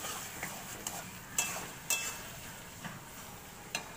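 Kochur loti, taro stolons, are tipped into a pan and stirred, giving soft sizzling under a series of spaced scraping strokes and light utensil knocks against the pan.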